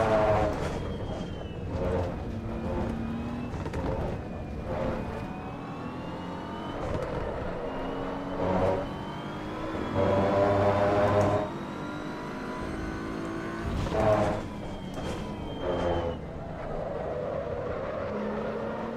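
A race car engine in the sim game Assetto Corsa EVO, a steady, moderately loud drone that rises and falls through repeated revs and gear changes and plays on alone with no one speaking.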